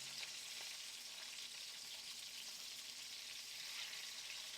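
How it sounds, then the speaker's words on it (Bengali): Frogs fry in hot oil in a pan, producing a steady, fairly faint, even sizzle with no voices. "আর এক পাশ উল্টিয়ে ভেজে নিব।"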